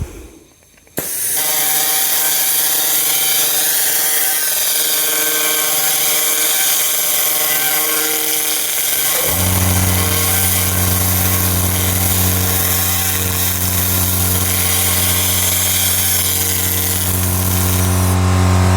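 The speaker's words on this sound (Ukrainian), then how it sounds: "І ми спробуємо чистити лазерним станочком імпульсним." Pulsed laser cleaning machine removing scale from weld seams, a loud continuous hissing drone with steady tonal hum that shifts to a deeper humming pitch midway and runs unbroken to the end.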